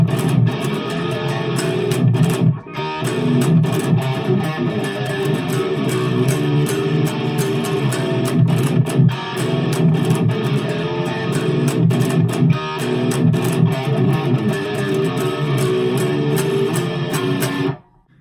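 Distorted electric guitar plays the ethereal riff through effects in one steady, dense passage, loud and sustained for about seventeen seconds with a brief dip near the start and an abrupt stop at the end, no talking.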